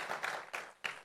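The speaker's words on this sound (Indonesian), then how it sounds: "Boleh beri tepuk tangan buat Tuhan kita." A church congregation at an Indonesian-language sermon claps in a brief burst of applause, coming in three quick swells of many hands before trailing off.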